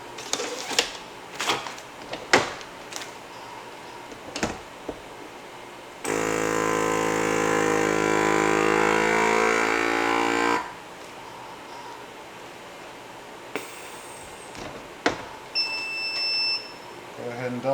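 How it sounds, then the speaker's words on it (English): A meat vacuum sealer pumps with a loud, steady mechanical whine for several seconds, then stops; a high electronic beep follows near the end, with scattered clicks and handling noises around it and some talking. "which this is the meat vacuum sealer"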